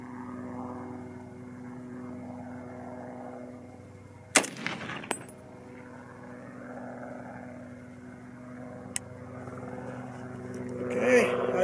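Browning BAR rifle fired at a paper target on an outdoor range: a few sharp, distant-sounding reports spaced irregularly, the first strongest, over a steady low engine-like drone.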